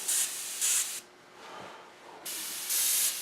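Short bursts of airbrush spray hiss steadily in two pairs, separated by a quieter gap with a faint hum of air.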